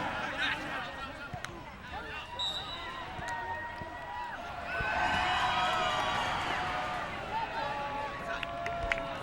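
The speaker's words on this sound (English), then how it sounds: "Virginia crowd is ecstatic as the ball goes in 10 seconds after the whistle" A stadium crowd at a Virginia soccer match swells into loud, sustained cheering after a goal from a corner kick, heard as a distant roar under a commentator's voice.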